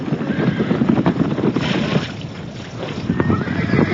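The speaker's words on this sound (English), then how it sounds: "the mares rush in from the desert for their traditional meal" Arabian breeding mares whinny as they rush in from the desert for an evening meal, loud and close, mixed with rumbling hoof noise and wind buffeting the microphone.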